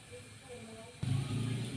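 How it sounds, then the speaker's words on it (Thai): Cabbage hits a hot oiled pan with fish sauce and oyster sauce, bursting into a loud, steady sizzle after a quieter start, with voices talking over the cooking. "ผัดกะหล่ำข่อยเด้อ"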